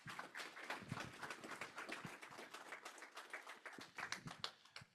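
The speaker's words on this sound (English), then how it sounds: "let's give Remy a round of applause" Scattered applause at a federal health IT summit panel, following a panelist's talk. The clapping is moderately loud and irregular, with sharp taps that dip midway and then swell again near the end.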